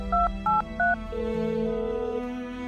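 Three short dialing tones in quick succession, then a steady ringback-style tone that holds for over a second, clear and close.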